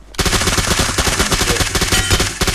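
Gunfire rings out in the video game PUBG on the Erangel map: loud, sustained automatic bursts of rapid shots overlapping into a dense, continuous barrage with no pause.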